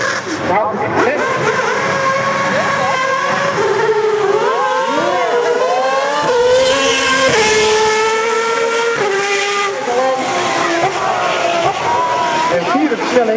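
A single-seater race car at speed in fourth gear, around 190 km/h, on a city demo circuit in Assen, its loud engine whine rising and falling in pitch continuously and close by throughout.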